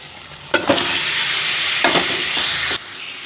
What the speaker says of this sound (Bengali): এবার আমি চিকেনটা ঢেলে দেব